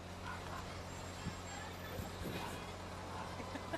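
A fire truck carrying Santa Claus rolls through the 2023 El Dorado Christmas Parade downtown, its engine a steady low rumble with a few brief knocks. Faint crowd voices mix in throughout.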